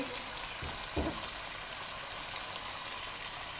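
Goat trotters (paya) frying in masala give a dense, even sizzle like steady rain, with one or two soft knocks of a spoon early on, close and continuous with no talking.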